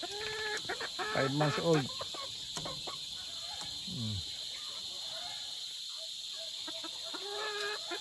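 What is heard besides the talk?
chickens clucking, Boston Roundhead pullets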